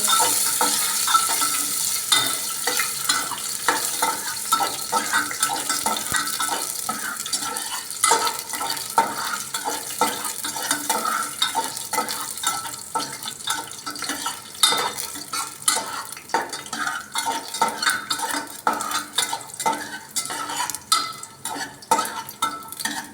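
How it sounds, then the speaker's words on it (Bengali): Cashews and raisins frying in oil in a home kitchen pan for pulao, a steady crackling sizzle with frequent scraping stirs of a spatula against the pan, close and continuous for over twenty seconds. "কাজু কিশমিশটা লাল লাল করে ভাজা হয়ে গেছে।"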